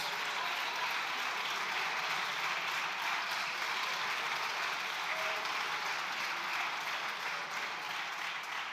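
Sustained applause fills the chamber of the Spanish Congress of Deputies during a heated session, a dense, even roar of many hands clapping that holds steady and fairly distant for the whole stretch.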